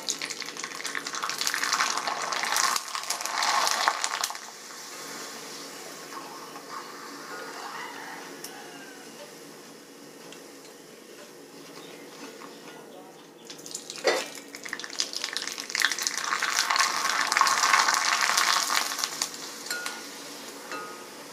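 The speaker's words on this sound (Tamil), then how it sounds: "இப்போ நான் கடாயில ஆயில் வச்சிருக்கேன் அது ஒன்னு சூடாகட்டும் நம்ம ஒவ்வொரு வத்தலா பொரிச்சு" Jawarissi vathal sun-dried wafers fried one at a time in hot oil in a kadai, giving a broad hissing sizzle that swells loudly at the start, fades in the middle and surges again near the end, with no talk over it.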